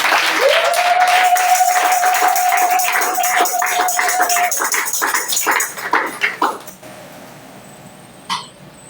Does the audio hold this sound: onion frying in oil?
no